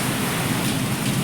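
Heavy rain driven by strong wind, a dense, loud, continuous roar of pouring water and gusts with no pause and no voices.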